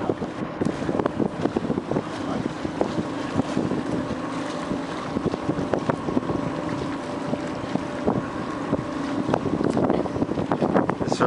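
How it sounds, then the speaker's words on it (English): Wind rushing past tall ships sailing in the Parade of Sail in Halifax harbour, a dense steady roar with microphone buffeting and scattered knocks, boat engine rumble underneath, continuous and loud, with no talking. "You hear the wind hitting the sails?"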